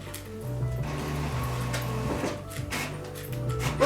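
Inkjet printer running a print job while a portable head-cleaning device is connected, a steady mechanical hum with shifting motor tones and a few carriage clicks, fairly close and continuous.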